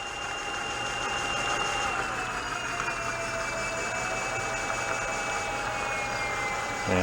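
Electric moped motor winding down as the throttle is slowly rolled off, a continuous close whine with tonal lines gently falling in pitch over a steady mechanical hum, no talk.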